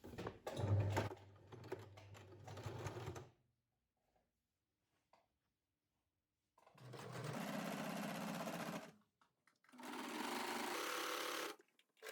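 A sewing machine stitches fabric for a child's kazhekei vest, running in three long, loud, close bursts of rapid mechanical chatter separated by pauses of near silence.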